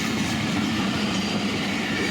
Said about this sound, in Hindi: ये खैबर मेल है जो लाहौर से कराची जा रही है।